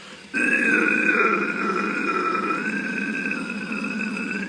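A sustained, gravelly guttural growl held steadily for several seconds, loud and close, with a rough throaty buzz and no talking.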